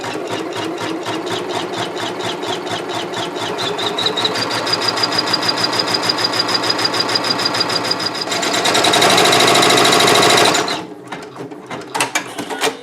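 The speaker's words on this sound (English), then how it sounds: "It's cutting the thread for that first color and it's getting the second needle in position." A Janome MB4 embroidery machine stitches in a steady, rapid mechanical rhythm, speeding into a louder, denser whir near the end, then stopping abruptly and leaving a few scattered clicks as the thread is cut and the next needle moves into position.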